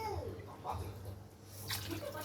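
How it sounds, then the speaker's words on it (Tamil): Water splashes and trickles steadily into a cooking pot of mutton curry, with a low hum running underneath throughout. "மூணு டம்ளர் தண்ணி ஊற்ற போகிறேன்"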